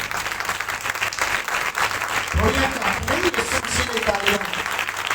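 Church congregation at a Pakistani convention service clapping, a dense sustained wash of applause with a voice speaking over it partway through.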